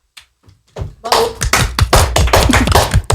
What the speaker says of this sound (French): Je vous laisserai m'applaudir.